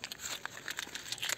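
A plastic bag crinkles as it is handled and unfolded, giving a close, quiet run of irregular rustles and crackles that lasts briefly with no speech over it.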